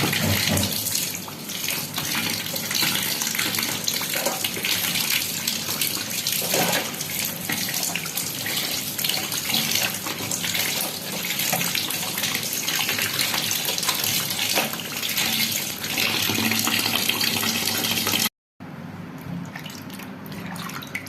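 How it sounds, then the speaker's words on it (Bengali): Flour dough is washed by hand in water for a chili recipe, with steady, loud running and splashing water filling the whole stretch and a brief break near the end. "এবার এই ময়দাটাকে আমাদের ভালো করে জল দিয়ে ধুয়ে নিতে হবে বারবার ধুয়ে"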